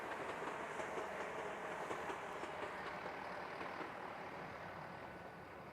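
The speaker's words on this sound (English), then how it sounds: "Oh, it's a train." A train passes near the M49 motorway, giving a steady rumbling roll with faint rhythmic clatter that holds level and then eases slightly toward the end, heard from a distance with no voices.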